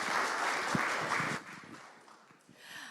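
Applause from an audience after a musical performance at a circular economy launch event in Nairobi, a dense wash of clapping that fades after about a second and a half into sparse scattered claps.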